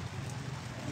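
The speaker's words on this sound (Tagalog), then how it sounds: "It's raining." Steady rain falling outdoors during an All Saints' Day cemetery visit, a dense even hiss filling the short moment with no pauses.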